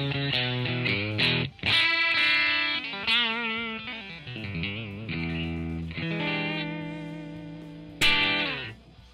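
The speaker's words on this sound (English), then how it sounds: "It's gonna give us an amp model of a 65 deluxe reverb and a cabinet model of a deluxe 1x12." Electric guitar played through a Digitech modeler set to a '65 Deluxe Reverb amp model with a Deluxe 1x12 cabinet model, with a slightly driven, effected tone. Strummed chords and sustained, wavering notes ring out alone for about nine seconds.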